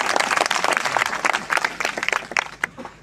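Applause from party workers at a BJP felicitation ceremony in Chhatrasal Stadium, Pichhore, a dense burst of close, loud clapping that thins out toward the end.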